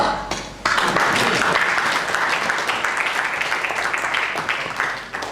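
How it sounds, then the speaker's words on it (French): An audience at a debate event in Kinshasa bursts into applause after a brief quieter moment, keeping up dense, even clapping that tapers slightly near the end. "Je m'applaudis"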